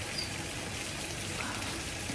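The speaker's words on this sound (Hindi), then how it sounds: "बारिश चल ही रही है लगातार कंटिन्यूसली, बिल्कुल भी रुकी नहीं है बारिश।" Continuous rain falling steadily, a faint, even hiss of drops pattering on surfaces with no breaks and no voices.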